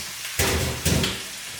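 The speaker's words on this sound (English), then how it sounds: "which is flash fry in the wok" Shrimp flash-fried in a hot wok gives two loud, rushing bursts of crackling sizzle with a quieter hiss running between them.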